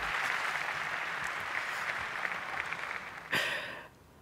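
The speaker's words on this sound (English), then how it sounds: "give him a round of applause, please" Applause from a live audience at an evening Porsche museum event, a steady even wash of clapping that swells abruptly near the end and then drops away, no talk over it.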